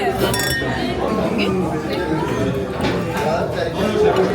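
Wine glasses clink together in a toast over a meal in Marseille, with several bright close chimes ringing out among lively overlapping talk and chatter at the table.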